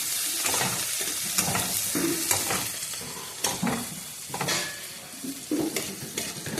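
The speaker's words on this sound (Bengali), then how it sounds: "হালকা ফ্রাই হয়ে আসছে, এটা হালকা হালকা ব্রাউন হয়ে গেছে।" Food frying in a pan until lightly browned, a steady close sizzle broken by stirring scrapes and occasional clanks of a utensil, with no one speaking.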